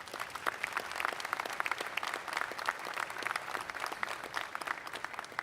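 Steady applause from a seated audience at an FDNY medal day ceremony, dense and continuous with crisp overlapping claps at moderate distance, no voices over it.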